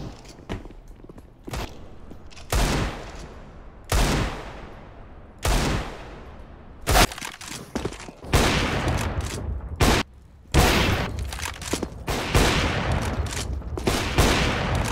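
Repeated bursts of gunfire from a first-person shooter match, loud sharp shots in clusters with short gaps, some rapid volleys, footsteps and movement noise between them.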